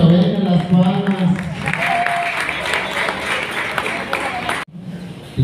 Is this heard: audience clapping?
yes